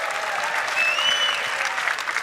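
A crowd at the Ford Mustang 2023 world premiere at NAIAS 2022 claps and cheers steadily, with a whistle rising above the dense applause.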